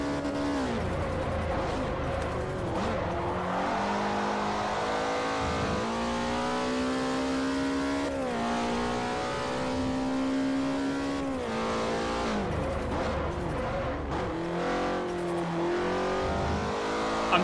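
Race cars in Forza Motorsport 4 on a North American track during the final lap, engines whining and rising through gears with repeated shifts, tire squeal and passing cars, loud and continuous with no talk.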